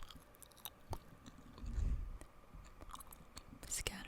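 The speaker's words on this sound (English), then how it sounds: "with some gum chewing" Gum chewed close to the microphone in a soft-spoken ASMR setting gives quiet, moist smacking and clicking sounds, with a brief low rumble in the background partway through.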